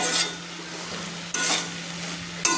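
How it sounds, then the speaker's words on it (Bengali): A utensil stirs pasta mixed with egg and black pepper powder in a pan, giving steady sizzling scrapes with a few sharper strokes, close and alone. "গোলমরিচের গুঁড়ো দিয়ে ভালো করে আমি নেড়ে নিলাম"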